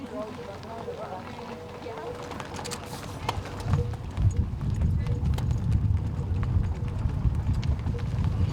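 Horses trot up a mountain road on a cattle drive near the small community of Jardine, hooves clip-clopping steadily amid outdoor noise and a low rumble that grows louder midway.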